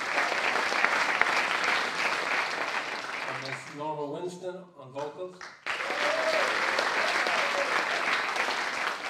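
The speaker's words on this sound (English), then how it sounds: "A big round of applause" Audience applause at a live jazz orchestra concert, steady and full, broken midway by a male announcer's voice before the clapping swells back in.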